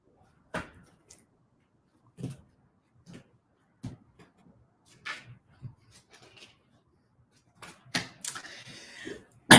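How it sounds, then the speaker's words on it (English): Tarot cards shuffled in repeated short riffling bursts, crisp and close, separated by brief pauses and ending in a denser flurry. "Someone stop shuffling."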